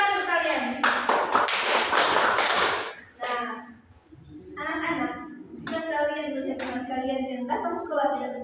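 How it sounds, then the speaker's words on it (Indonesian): Schoolchildren in a classroom clap together in a short burst of brisk applause lasting about two seconds, followed by an adult teacher speaking. "tepuk tangan untuk kalian."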